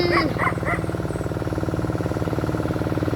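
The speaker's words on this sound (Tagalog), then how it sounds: "ito pa yung mga aso namin" Farm dogs at a rural provincial home barking a few quick times near the start, over a steady loud engine rumble from a tractor or truck, with no clear talking.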